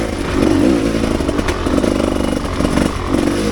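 Rieju Ranger 300 dirt bike fitted with an FMF Gnarly exhaust, lugging at low revs in third gear, a steady throaty thump running throughout with slight surges and some clatter close by.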